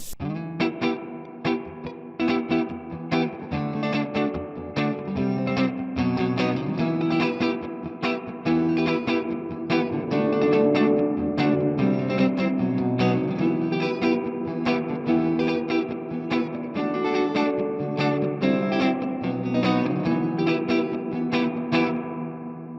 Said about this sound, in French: Avec une reverb à ressort, c'est carrément